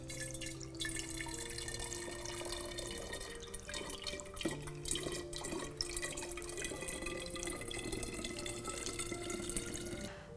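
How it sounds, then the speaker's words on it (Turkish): Kefir poured into a stoppered bottle in an ecological kitchen, a steady trickling, splashing flow of liquid heard close up for the whole stretch, with no talking. "Bunu yardımıyla kefirimizi şişemize aktarıyoruz."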